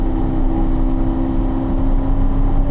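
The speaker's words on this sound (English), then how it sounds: "And I do my downshift, a little bit around the turn-in area." A race car engine droning steadily at a fairly constant pitch with a strong tonal hum, loud and close, with no clear downshift blips and no talk.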